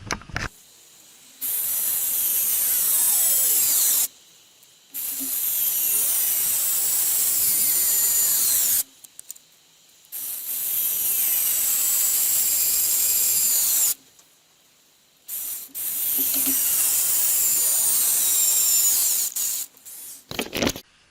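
A cordless screwdriver driving screws into wooden boards, sped up, giving several long high-pitched whirring bursts separated by short silences, loud and close.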